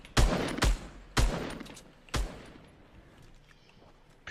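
Four loud, sharp SCAR rifle shots in a video game, spaced irregularly over about two seconds and followed by quiet, with no talk over them.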